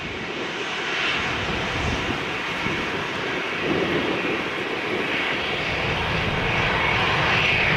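A Ryanair jet taking off from runway 02 at Lisbon Airport gives a sustained, powerful engine roar that swells gradually, heard alone without voices.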